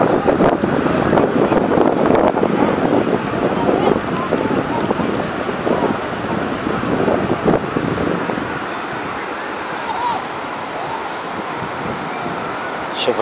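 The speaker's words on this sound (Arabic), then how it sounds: "طبعا هذا البحر، الموج اليوم هادي" Calm sea waves wash onto the beach at Guarujá, Brazil, a steady broadband rush with wind buffeting the microphone, fairly loud and continuous throughout.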